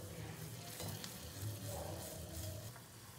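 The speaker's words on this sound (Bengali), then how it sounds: "আর এইভাবে ওপর থেকে গরম তেলটা দিতে হবে, তাহলে কি পিঠেটা কিন্তু সঙ্গে সঙ্গে ফুলে উঠবে।" Pitha sizzling as it fries in hot oil, with oil spooned over the top so it puffs; a steady, close crackle runs throughout with no talk.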